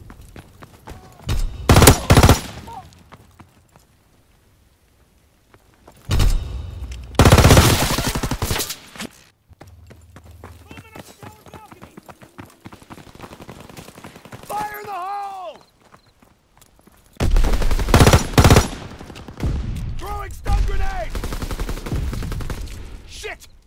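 Call of Duty WWII multiplayer battle with loud bursts of automatic gunfire and rifle shots in several clusters, separated by quieter stretches where game voices call out orders and the distant clatter of combat continues.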